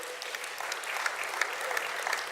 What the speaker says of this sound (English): Can we give him a clap of hands, people?